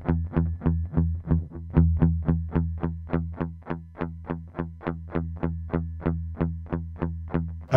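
Electric guitar played through a Mosky Classic M-SA amp pedal, a steady chugging pattern of evenly spaced picked notes with a driven, slightly effected tone, loud and close with no talking.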